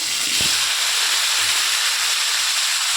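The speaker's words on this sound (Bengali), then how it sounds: "ওই কড়াইতে একটু শুকনো লঙ্কা, একটু গরম মশলা, একটু শুকনো লঙ্কা, একটু জিরে, একটু তেজপাতা ফোড়ন দিয়ে আলুগুলোকে দিয়ে" Whole spices, including dried chillies, cumin, garam masala and bay leaves, fry with potatoes in hot oil in a wok, giving a loud, unbroken hiss of sizzling with a few low knocks beneath.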